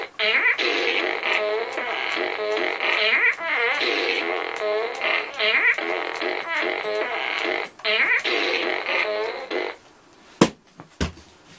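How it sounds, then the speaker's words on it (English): A toy fart gun blares a long, loud run of rapid, buzzing fart noises in repeated bursts for about ten seconds, then falls mostly quiet apart from a few sharp clicks. "I've got the fart gun, which is always good."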